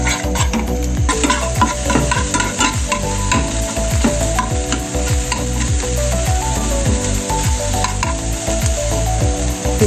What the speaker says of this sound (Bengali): এটাকে ভালো করে এভাবে ভেজে নেব